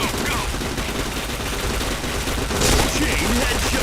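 Dense, continuous gunfire from a team-based shooter video game fills the stretch, with rapid overlapping shots and a louder burst near the end, no voices over it.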